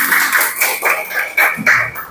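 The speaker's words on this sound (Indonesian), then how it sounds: "Tepuk tangan" A class of schoolchildren clapping their hands together in a few quick rhythmic bursts, fairly loud and close, filling the room with dense overlapping claps.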